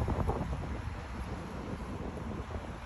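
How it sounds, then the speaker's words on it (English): Outdoor wind gusts buffet a phone microphone, a steady low rumbling roar that stays fairly faint and continuous, with no voices. "It's a little bit windy."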